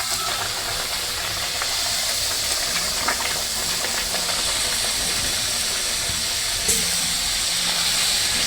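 Puris frying in hot oil make a constant loud bubbling hiss with a couple of brief sharp clicks of placement.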